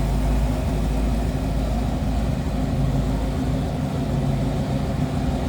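A 302 V8 engine in a 1931 Ford Model A street rod idles steadily with a deep, even rumble, close up and constant throughout, with no voices.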